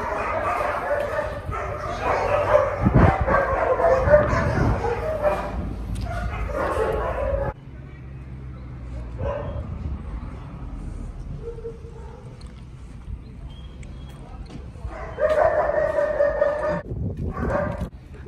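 Several dogs bark and yip at a house, in loud bursts that come and go, close to the mic, while someone talks over and between them.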